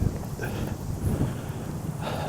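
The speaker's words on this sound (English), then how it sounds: "That's how windy it is today." Strong wind buffeting a microphone outdoors, a steady low rumbling roar with gusty swells throughout and no clear speech.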